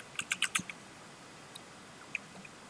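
A few quick keystrokes on a computer keyboard while a variable declaration is typed in a terminal, a short burst of clicks followed by two or three isolated taps, faint and close with no talking.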